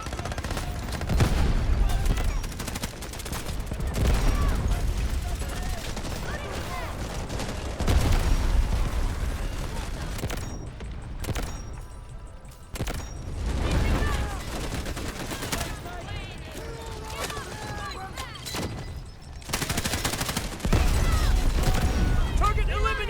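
Rapid fire from a CI-19 rifle with a drum magazine in the Delta Force shooter game, sustained dense bursts broken by short pauses, loud and close, layered with game music and effects and with voices talking over it.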